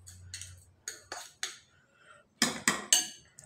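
Corned beef being mixed with egg, pepper, salt and seasoning syrup, a series of sharp clinks of utensil against bowl in separate bursts, close and fairly loud, with no talking.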